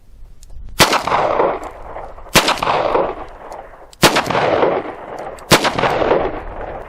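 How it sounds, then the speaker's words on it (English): Four loud .38 Special revolver shots fired at an outdoor range, the first two with standard ammunition and the last two with +P loads, evenly spaced about one and a half seconds apart, each a sharp crack with a rolling echo tail. "I want you to fire all 4 rounds and tell me if you can tell any difference in the recoil."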